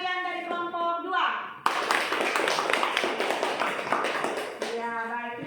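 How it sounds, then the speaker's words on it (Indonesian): Children in a classroom clap for a student group, a dense burst of applause running about three seconds between stretches of voices, fairly close and loud. "Tepuk tangan untuk teman-teman kalian dari kelompok 2"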